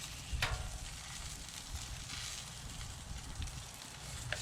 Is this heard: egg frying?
yes